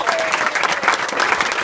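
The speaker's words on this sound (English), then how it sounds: "I think you could give her a round of applause again" Wedding guests applaud the bride during a best man's speech, a dense burst of clapping from a sizeable crowd, loud and steady for under two seconds.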